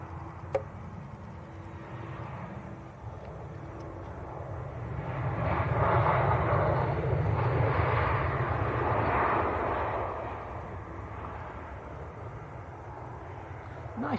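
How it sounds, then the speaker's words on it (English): An EasyJet Airbus A319 from Barcelona lands at Leeds Bradford Airport, its engine roar swelling from moderate distance to a peak midway, then fading back to a low rumble. "So an Airbus A319 from Barcelona, just about to touch down."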